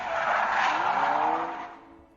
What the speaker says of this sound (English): I lost control of the steering wheel and swerved straight into a ditch.